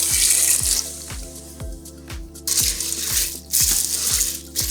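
Water runs steadily from a tap into a pot of macaroni for stovetop mac and cheese, a continuous hissing splash with a regular low rhythmic thudding underneath, fairly loud and close with no voices.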